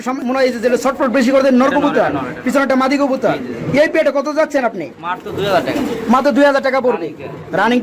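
A pair of Indian domestic pigeons coos throughout, the repeated rolling calls close and loud, with talking heard alongside.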